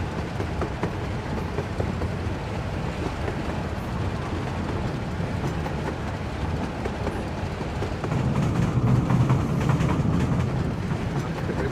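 A train rolls steadily along a railroad in the Workers and Resources city-building game, a continuous rumbling clatter with faint wheel clicks that grows a little louder and heavier in the last few seconds.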